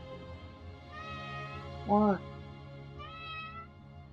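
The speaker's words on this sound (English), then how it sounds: "That's my kitty, y'all. She's saying hello." A pet cat meows once, loud and close, a short rising-falling cry in a quiet room, with a person's voice speaking briefly before and after it.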